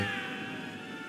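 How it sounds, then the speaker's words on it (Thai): A single drawn-out cat meow, faint and tonal, over a quiet steady background hum, from the video game Marvel's Spider-Man Remastered. "เสียงแมวร้อง"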